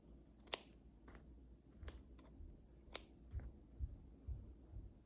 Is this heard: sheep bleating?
no